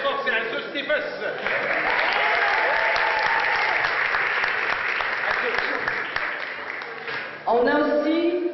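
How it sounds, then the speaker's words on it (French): An audience applauding at a cultural heritage event, a strong steady wave of clapping that holds and then tapers, with a voice speaking over it at the start and again as it fades. "On applaudit très très fort"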